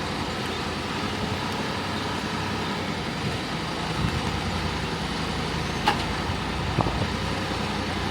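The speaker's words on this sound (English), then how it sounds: "Trying to pick that tractor up and set it on top of that backhoe boom." A backhoe's engine rumbles steadily as it tries to lift a tractor onto its boom, a constant loud diesel drone with a couple of faint clanks near the end.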